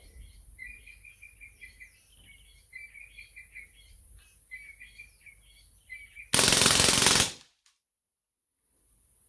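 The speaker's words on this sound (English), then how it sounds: "So I've switched the selector switch to full automatic." A Hatsan Blitz .22 airgun on full automatic lets off one loud burst of rapid shots lasting about a second, outdoors with birds chirping softly before it and quiet afterward.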